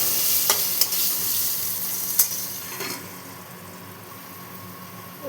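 Potatoes frying with turmeric in a pan give an even, close sizzle, with a few light clinks and scrapes of stirring scattered through, and nobody talks.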